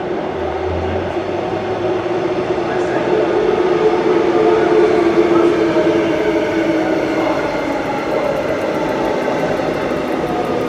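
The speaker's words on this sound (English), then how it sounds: "And the train to Butler is arriving" A six-car Transperth B-series train bound for Butler on the Joondalup line rolls into an underground station at Elizabeth Quay with a steady, loud rumble and rising whine of motors, continuous throughout with no talk.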